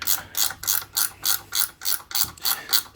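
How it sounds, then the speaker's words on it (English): A ratchet spanner turns a 10mm bolt on a Polaris Ranger 570 EFI gearbox, giving eight or nine evenly spaced bursts of rapid clicking, close up and fairly quiet, with no talk. "Ratchet spanner."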